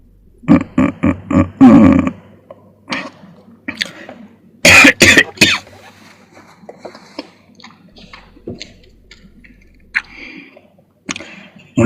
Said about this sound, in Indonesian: Mulai batuk-batuk saya udah ya.